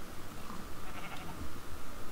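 Sheep bleating in Minecraft, a soft, wavering, nasal call repeated faintly over a couple of seconds against low background noise, no voices.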